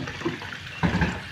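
Two kilograms of jaggery drop into a 200-litre tank of water, making a short liquid splash and slosh up close after a brief quieter rustle.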